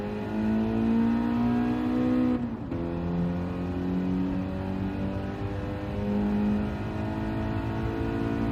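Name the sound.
race car driving laps in video game Gran Turismo 7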